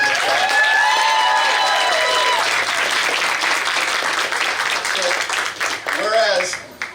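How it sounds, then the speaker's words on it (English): Big round of applause from an audience, with sustained clapping and a few cheers and whoops over it, thinning slightly near the end as voices emerge. "let's give them, again, a big round of applause"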